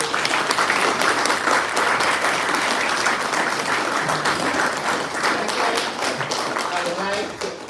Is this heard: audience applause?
yes